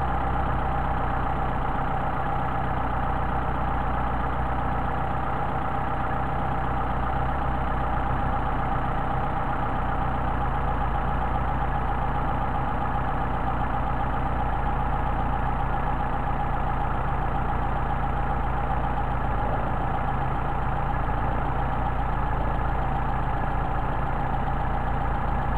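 A Mercedes 190SL engine with Solex carburetors idling at operating temperature, a steady, even low rumble and hum that continues unchanged throughout.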